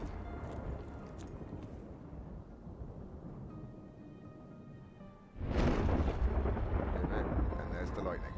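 Thunder in a Black Ops 3 weather mod game: a low rumbling background gives way to a sudden loud, broad crack and roar of thunder that keeps rolling heavily to the end.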